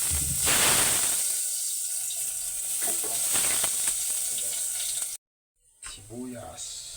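Garlic sizzles and crackles in fresh cooking oil in a pan, with a bright, steady hiss and some stirring clatter. The hiss cuts off briefly and then returns.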